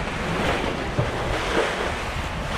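Steady roar of open-ocean waves and wind heard from a sailing boat, dense and loud throughout, with surging swells and no voices.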